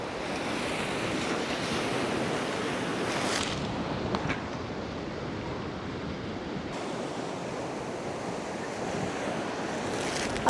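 Sea swell rolling onto the Northumberland shore on a windy day, a steady broad wash of surf with gusting wind buffeting the microphone throughout, no voices.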